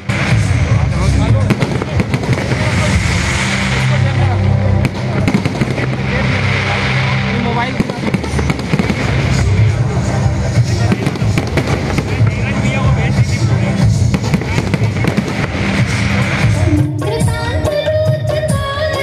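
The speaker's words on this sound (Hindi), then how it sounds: "इस मौके पर की गई आकर्षक आतिशबाजी ने आसमान में रंगोली सी छटा बिखेर दी।" Fireworks at a Narmada Maha Aarti in Jabalpur crackle and pop continuously over a dense wash of noise, with a crowd's voices mixed in throughout.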